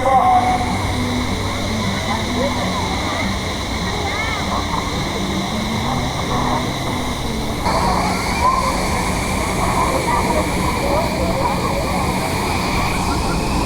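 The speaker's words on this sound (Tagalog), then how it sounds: "Grabe, ang taas ng falls na yun, no?" Taytay Falls in Majayjay, Laguna roars steadily as a loud, continuous rush of water, with crowd chatter mixed underneath throughout.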